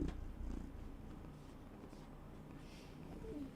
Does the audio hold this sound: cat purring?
yes